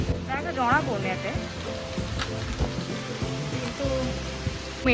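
Heavy rain keeps up a dense patter on surfaces nearby, and a voice speaks intermittently over the steady wash.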